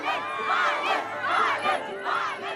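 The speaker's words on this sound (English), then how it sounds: "Balen Shah is no stranger to crowds chanting his name" Crowd at celebrations in Nepal chanting Balen Shah's name, rhythmic repeated shouted phrases rising and falling in unison, loud and close, about three chant cycles in quick succession.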